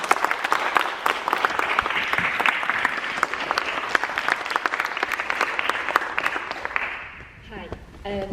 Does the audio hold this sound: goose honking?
no